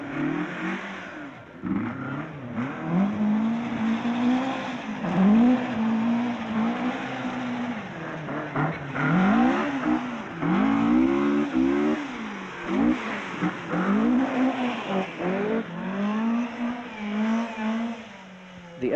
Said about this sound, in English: Marco Alain has chosen to drive a Stratos for this event. Mikkola follows the fast line too, but the tarmac is slippier than it looks